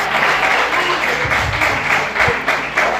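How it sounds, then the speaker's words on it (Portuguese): A church congregation applauds during an evening sermon, a loud steady wash of dense clapping that carries on throughout, with a few sharper, louder claps near the end. "Aplauda Jesus nessa noite."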